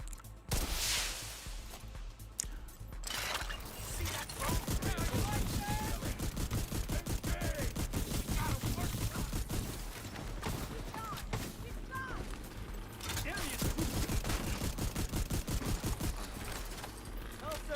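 Shotgun fire in The Division 2 during PVE play: a long run of repeated blasts with dense rapid gunfire, loud and close, mixed with game effects and a voice talking over it.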